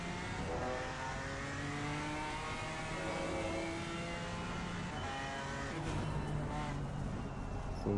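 A GT4 race car in Assetto Corsa Competizione at Kyalami brakes into a hairpin, its engine a steady droning whine with shifting pitch lines that ease as the car slows, continuous and moderately quiet with no talk.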